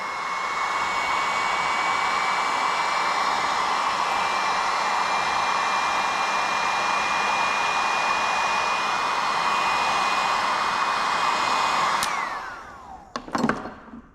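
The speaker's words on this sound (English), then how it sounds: "We're gonna get the heat gun to dry off any of the alcohol." A heat gun blows hot air to dry alcohol off tape on Brembo big brake kit parts for a Z31 300ZX. A loud, steady whooshing roar runs for about twelve seconds, then shuts off and is followed by a few brief clattering knocks.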